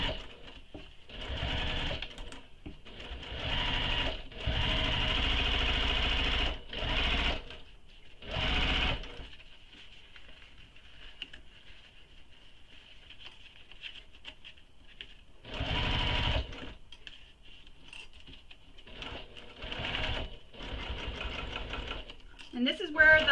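A sewing machine stitches a crossbody bag panel in several bursts of rapid whirring. Long gaps between the runs hold quieter handling and faint talk.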